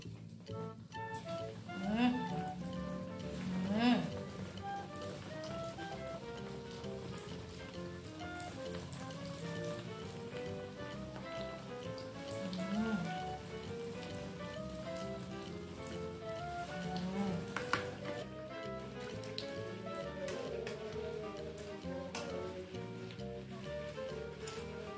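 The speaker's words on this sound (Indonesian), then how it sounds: "Nah, sekarang kita goreng cirengnya." Cireng snacks fry in hot oil with a continuous crackling sizzle throughout, while a voice talks faintly in the background.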